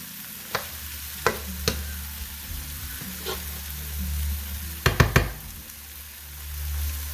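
Eggs fry Kenyan style in a pan with a soft, steady sizzle, broken by a few sharp clicks and knocks of a utensil against the pan, heard close with no talking.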